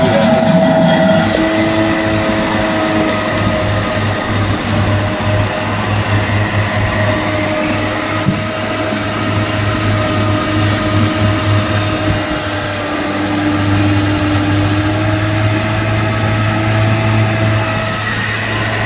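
A solar-powered SunRay variable speed pool pump runs steadily while priming itself with air in the system, a loud continuous motor hum and whir with sustained tonal drone and no speech.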